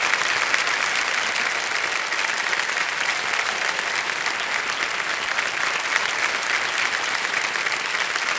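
Studio audience applause fills the space for a quiz-show contestant, a dense, even wash of many hands clapping that holds steady and loud throughout.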